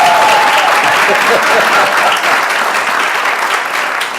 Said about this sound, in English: really give them a round of applause